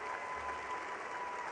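Commencement audience applause at a university arts and sciences graduation ceremony, a steady, even wash of many clapping hands heard faintly and from a distance, with no one speaking.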